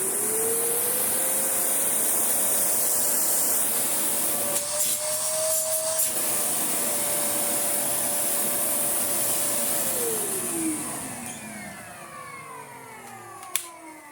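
A Karcher VC3600 vacuum cleaner motor, restored, drones steadily at close range on minimum power, its pitch lifting slightly, then winds down near the end, fading with a small click.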